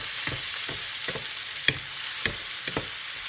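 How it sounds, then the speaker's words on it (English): Bell peppers and mushrooms for an omelette simmer and sizzle in a pan, a steady hiss with several soft scraping stirs and light taps from the utensil. "I'm just gonna let them simmer for a little bit."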